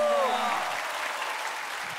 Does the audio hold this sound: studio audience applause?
yes